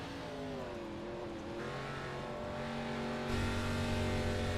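Race cars from an ARCA Series event roar around the Bristol dirt track, engines droning and rising in pitch as they accelerate, loud and continuous with no talk.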